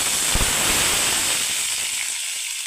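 Cumin seeds, dried red chillies and curry leaves sizzle and hiss in hot oil for a tur dal, a steady close frying crackle with a soft thump at the start, fading slightly toward the end.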